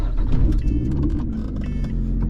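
A Lotus Evora sports car is switched on up close, a steady low engine rumble holding through the short stretch with light mechanical whirring on top.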